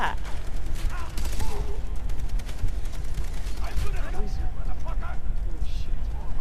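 Gunfire in the video game Far Cry 3, with scattered sharp shots and bursts crackling steadily beneath someone talking throughout.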